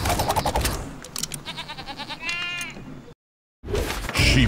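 A Sheep Creep in the video game Skylanders: Trap Team bleats repeatedly in quavering, wavering cries amid busy game sound effects, then a short silence before more noisy effects.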